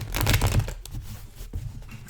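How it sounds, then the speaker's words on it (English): Playing cards being shuffled by hand, a dense riffling burst up close at first, then a quieter crinkly shuffle that fades, heard alone with no talk. "Let me shuffle these cards up"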